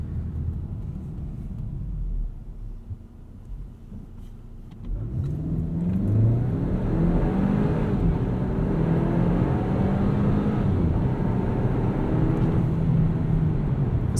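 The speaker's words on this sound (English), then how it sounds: "let's do a 0 to 60 test" A 2020 Volvo XC40 T5 AWD R-Design accelerates hard from a standstill in a 0 to 60 run, its engine note climbing and droning loudly through the gears from the cabin.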